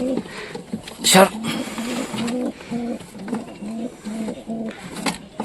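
Pigeons scuffle and coo together, with repeated throaty coo phrases and a sudden burst of flapping wings early on, heard close up while a person talks over the birds.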